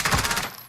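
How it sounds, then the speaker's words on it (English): Rapid automatic gunfire in a Call of Duty Warzone match, a dense burst of rattling shots across the first half second that tails off quickly, loud and close. "Yeah, we're getting sniped at to our left, to our right, actually."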